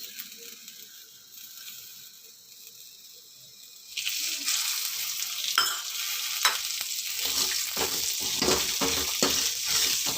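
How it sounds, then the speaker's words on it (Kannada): Fresh coriander leaves and coconut roasting in a pan begin to sizzle and crackle about halfway through, with steady stirring scrapes and clinks following. Before that, only a quiet hum is heard. "ಕೊತ್ತಂಬರಿ ಸೊಪ್ಪು, ಕಾಯಿ, ಇದನ್ನು ರೋಸ್ಟ್ ಮಾಡ್ಕೋಬೇಕು."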